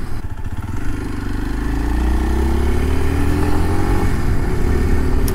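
A Kawasaki KLX 230 motorcycle with stock exhaust rumbles close by, its deep exhaust note rising slightly as it revs, steady and loud throughout.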